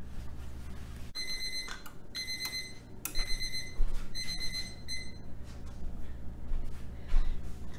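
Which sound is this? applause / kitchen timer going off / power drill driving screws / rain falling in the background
kitchen timer going off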